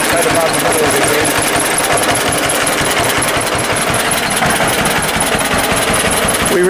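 A restored 1949 John Deere BW tractor engine runs steadily nearby with a loud, rapid, pulsing beat, while someone talks over it throughout.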